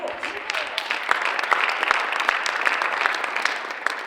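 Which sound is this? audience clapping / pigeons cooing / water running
audience clapping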